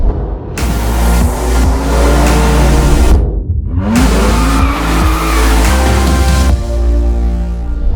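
Modified BMW F30 335 running hard on a dyno, loud sustained engine roar with a brief dip mid-run before climbing again, close and continuous with no voices.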